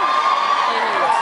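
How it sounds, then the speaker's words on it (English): A crowd at a live concert screams loudly along to the chorus, a dense, continuous roar of cheering and high shouting. "When we hit this chorus, you just scream as loud as you can."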